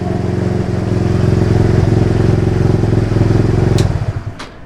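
A 50–150cc scooter engine idles steadily after a cold start, a loud chattering putter with regular firing pulses that carries on for about four seconds, then cuts off and fades out.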